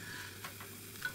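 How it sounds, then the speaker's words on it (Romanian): A slice of bread brushed with olive oil fries in a pan, giving a quiet, even sizzle with a few soft crackles and no talking. "Iei o felie de pâine și pui niște ulei de măsline peste ea. Și o pui în tigaie."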